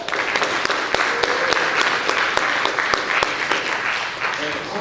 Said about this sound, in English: So we want to give her a round of applause.